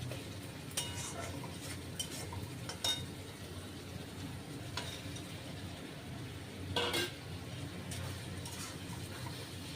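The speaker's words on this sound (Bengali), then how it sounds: "তাই এই আলুর দমটা দিয়ে একটু ভালো করে কষাবো" Aloo dum potato curry being stirred and fried in a pan, with scattered clinks and scrapes of a utensil against the pan over a steady low background hiss.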